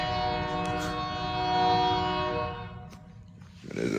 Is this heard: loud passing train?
yes